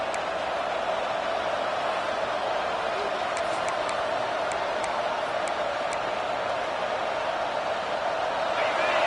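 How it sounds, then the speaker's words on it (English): Fired-up football game crowd, a steady dense roar of many voices filling the stadium, loud and constant throughout with no lulls. "It's early, but this crowd is fired up. Listen to this noise here."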